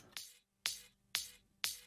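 A bright, hissy high kick noise sample at its original, unshifted pitch repeats four times in a steady rhythm, each crisp burst tailing off fast, quiet and heard on its own.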